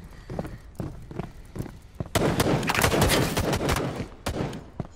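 Sustained covering gunfire in a shooter video game. Scattered shots give way to a dense, loud burst of rapid fire that tapers into a few final cracks.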